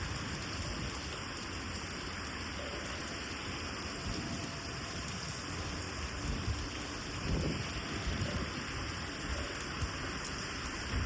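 A stormy downpour with strong wind roars steadily and loudly throughout, with heavy rain hissing continuously and low thunder rumbling beneath it. No voices are heard.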